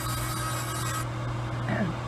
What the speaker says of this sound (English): You can grind it right off.